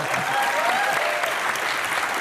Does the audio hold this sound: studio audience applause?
yes